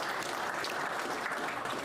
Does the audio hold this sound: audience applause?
yes